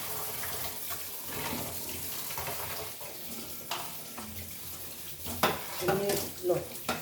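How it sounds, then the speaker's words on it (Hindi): A kitchen strainer is rinsed under a running tap in a sink, giving a steady splashing water flow with a few clinks and knocks of metal toward the end, close and fairly quiet. "और भी ये छन्नी भी धो देते हैं"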